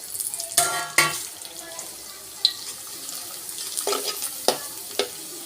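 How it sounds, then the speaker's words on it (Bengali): Sabudana papad, sago chips, frying in oil for an Ekadashi vegetarian meal, with a few sharp crackling bursts and utensil clinks scattered over a soft background hiss. "সাবুদানার পাপড় এটা হচ্ছে সাবুদানা চিপস এখন এগুলোই ভাজবো"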